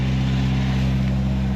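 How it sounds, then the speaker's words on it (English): A boat engine runs steadily while the vessel comes in to dock, a loud, even low drone with no pauses. "Run, engine, run."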